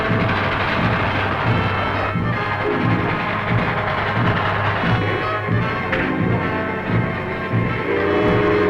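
A train rumbles loudly along the track in an old 1940 serial, with steady heavy rolling noise, rhythmic clatter and a faint horn or whistle tone, no voices.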